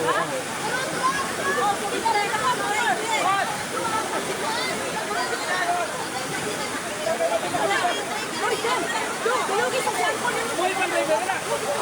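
Strong floodwater rushes and churns around a Toyota Hilux, a steady, loud roar of turbulent water. Voices of people talking are faintly mixed in beneath the flow.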